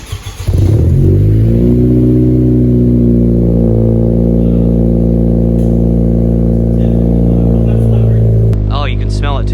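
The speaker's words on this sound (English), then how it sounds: "give you guys a cold start" A 10th-generation Honda Civic Si with a MAPerformance downpipe cold-starting: a brief crank, then the engine catches and settles into a loud, steady high idle close up, with a voice speaking near the end.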